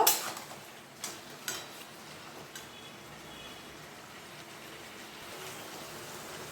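Potatoes and ridge gourd are stir-fried with poppy seed paste and a little sugar in a pan: a few clinks of a spatula against metal at the start, then a soft, continuous sizzle.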